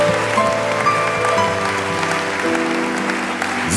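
Applause from a church congregation during a sermon, steady and continuous crowd clapping held at a moderate level throughout, with a low background hum underneath and no voices standing out.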